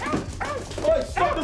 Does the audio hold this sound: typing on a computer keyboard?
no